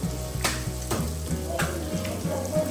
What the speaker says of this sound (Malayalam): ബീഫ് ഡ്രൈ ഫ്രൈ ആയിട്ടാണ് ചെയ്യുന്നത്.